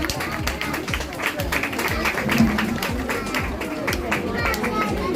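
Applause for a little girl on her first day at school, a crowd clapping steadily and fairly close throughout, with chatter and voices mixed in among the claps.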